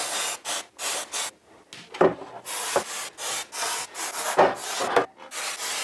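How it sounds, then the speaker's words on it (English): A microfiber cloth wiped over a transmission valve body part from a Mazda BT-50 / Ford Ranger, giving repeated loud, close rubbing and swishing strokes in an uneven rhythm, with a few sharper scrapes between them. "Just gave it a wipe down with a microfiber cloth"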